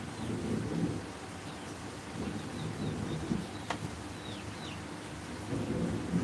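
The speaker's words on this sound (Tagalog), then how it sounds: "Kumukulog, kulog." Thunder rumbles low and steady through a rainstorm, with the constant hiss of rain and a few faint bird chirps in the background.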